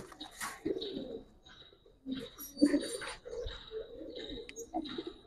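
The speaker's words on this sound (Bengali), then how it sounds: "আজকে কয়েকটা কবুতর দেখাইতাছি" Several Giribaz pigeons, including Bagha silver and black-necked birds, coo in low throaty bursts, with soft intermittent calls and a few faint chirps scattered through the stretch.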